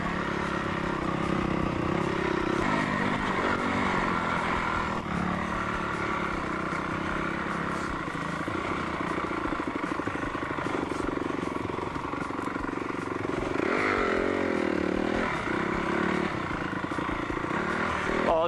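A fuel-injected motorbike being ridden across a paddock: a continuous, smooth engine drone with shifting pitch and a few rises in revs, heard close and fairly loud throughout.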